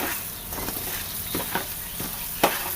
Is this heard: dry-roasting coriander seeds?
yes